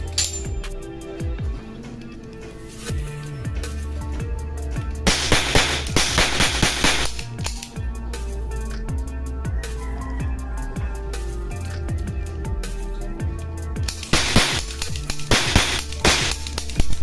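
Full-metal silver toy cap gun revolver firing caps: a series of sharp, loud cracks, some spaced and some in quicker clusters, over background noise without clear talk.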